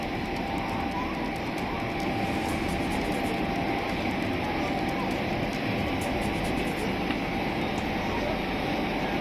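A train at a railway crossing in Dwarka, Delhi, giving a steady, loud rumble that fills the whole stretch, with indistinct voices mixed underneath.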